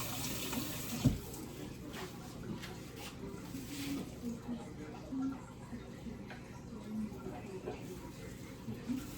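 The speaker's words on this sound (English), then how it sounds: "Let me rinse out my spoon." Water runs from a kitchen tap as a spoon is rinsed after cooking chicken red pea stew, a steady faint splashing flow with a brief knock near the start, with a voice talking over it.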